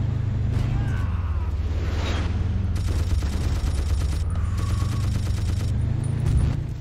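Steady automatic fire and scattered shots crackle in Battlefield 1942, the World War II shooter, over a constant low engine drone, with bursts of rapid fire in the middle.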